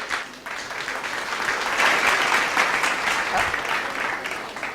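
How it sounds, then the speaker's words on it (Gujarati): Applause from an audience at a scholarship award ceremony, a steady, dense patter of many hands clapping close by that holds loud for the whole span after a brief quieter start. "જોરદાર તાળીઓ થઈ જાય"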